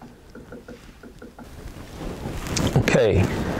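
Cyan ink pouring into the ink tank of an Epson F570 EcoTank sublimation printer: faint dripping at first, then a swelling, rushing gurgle of liquid filling the tank close up.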